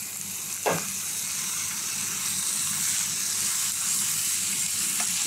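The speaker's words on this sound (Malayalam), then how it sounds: "ഇനി അരിഞ്ഞു വെച്ച പച്ചമുളക് തിരിട്ട് കൊടുക്കാം." Chopped green chillies fry in a pan, giving a continuous loud hiss of sizzling oil close by, with one sharp utensil knock early on and a faint scrape near the end, no talk.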